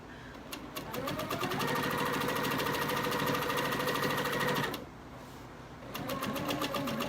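Sewing machine stitching a quilted table runner in blue thread, a steady rapid mechanical whir that runs continuously, briefly slows and drops, then resumes at full speed.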